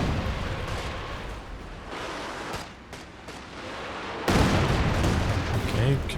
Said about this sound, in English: Katyusha barrage coming through.